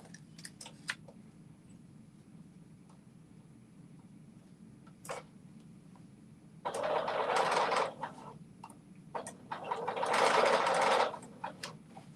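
A serger stitches fabric for a dress top in two bursts of rapid, buzzing machine chatter, with quieter handling clicks and rustles in between, close and clear.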